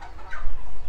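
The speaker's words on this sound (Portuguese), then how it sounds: "Eu sei que tem umas galinhas ali que elas fazem bastante barulho" Chickens cluck nearby in one short, fairly loud burst of fowl calls over a low background rumble, with no one speaking.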